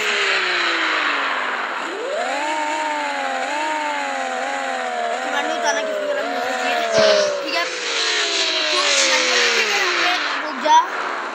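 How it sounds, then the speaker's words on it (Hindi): Game cars in Car Parking Multiplayer rev their engines in a drag race, with repeated rising gear-change sweeps that climb and drop as the motors accelerate, loud and continuous throughout. "एक बार यहाँ से अपनी गाड़ियों की आवाज़ सुना देते हैं गाइस को।"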